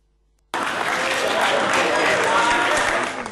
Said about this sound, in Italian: il lungo applauso che segna la fine definitiva di 6 mesi di patemi e sofferenze